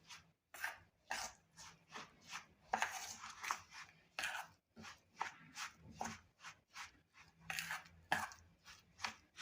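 Appe batter mixed with curd in a bowl gives repeated bursts of sloshing and scraping from a spoon, close and fairly regular, with a faint low hum beneath.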